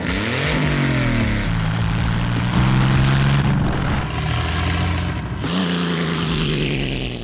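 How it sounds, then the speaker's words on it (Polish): A Porsche boxer engine fitted in a VW Transporter T2 van revs loud and close, its pitch sweeping up and down in several rising bursts, with a dense rumbling drone and no voices. "Jest to dźwięk boksera, naprawdę daje to radę."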